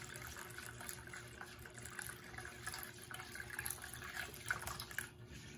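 Cold water running in a thin, steady trickle for grape gelatin, a soft continuous pour with faint splashes, quiet and alone.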